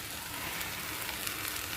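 A tempering of onions and chillies fries in a pan with dal, making a soft, steady, even sizzle close by with no talking.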